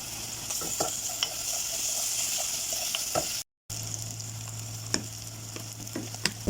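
Onions frying and being stirred in a pan as a soup is made: a steady hiss of sizzling with scrapes and knocks from the stirring, loud and close, with no voices.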